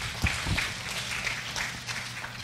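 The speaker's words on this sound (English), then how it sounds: "Let's give the Lord a clap of praise." A church congregation claps in praise during a worship service, a loose, moderately loud patter of hands with a couple of sharper bursts near the start over a low background hum.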